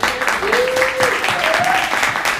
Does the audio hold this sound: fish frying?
no